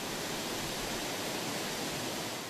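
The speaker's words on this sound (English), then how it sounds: "the Rufabgor Canyon, and people come from miles around to hike and take a look at its 7 beautiful waterfalls." Waterfalls in Rufabgor Canyon in the Republic of Adygea, a steady, dense roar of falling water, loud and unbroken with no voices.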